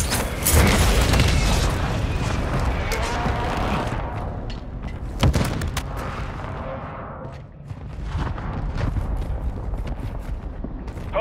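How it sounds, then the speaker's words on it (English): Heavy mortar strike explosions in Warzone 2 on Ashika Island: a dense barrage of loud, rumbling booms and blasts that crowd the first seconds, then scattered sharp detonations and rattling debris. "Hostile mortar strike incoming!"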